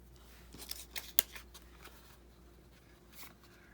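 Scissors snipping printed tissue paper tags, a few quick close cuts clustered together followed by faint rustling and handling noise.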